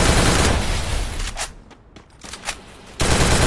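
Gunfire in a mobile battle royale game: dense, loud automatic bursts fill the clip, breaking briefly into a few sharp separate shots before heavy firing resumes.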